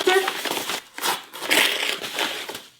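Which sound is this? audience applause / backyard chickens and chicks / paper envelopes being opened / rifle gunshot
paper envelopes being opened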